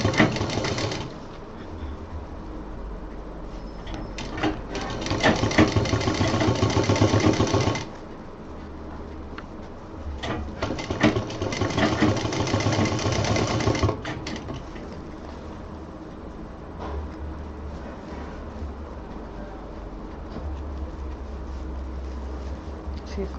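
A domestic sewing machine stitches diaper bag fabric in two long bursts of fast, buzzing whirring, each lasting several seconds, with a quieter hum and pause between them and after. The machine sounds close.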